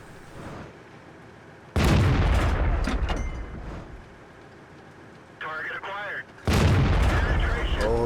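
Tank shells striking and bouncing off armour in World of Tanks, heard as sharp loud booms and crunching impacts in bursts, with a quieter rumbling stretch between them and a short radio-like crackle before the last hit.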